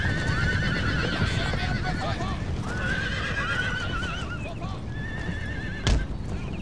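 Cavalry horses neigh and whinny repeatedly amid a battle in Empire Total War, shrill calls rising over a dense rumble of hooves and combat noise, with a sharp crack near the end.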